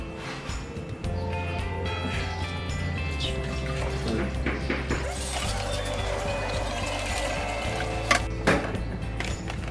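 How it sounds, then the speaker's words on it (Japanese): Hot water from a water heater pours steadily into a container to dissolve citric acid for de-rusting a Super Cub gas tank, a continuous splashing rush that stays loud for the whole stretch with a few clanks. "クエン酸をねお湯で溶かします。"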